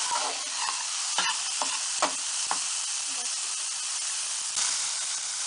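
Peas and mixed vegetables for vegetable donuts fry in a pan with a steady hiss and sizzle, punctuated by several brisk scrapes and clicks of a stirring spoon, close up and without talk.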